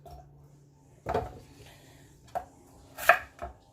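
Knife slicing radishes on a board into chunks: a few separate, sharp chopping thuds spaced irregularly, close and fairly quiet between strikes.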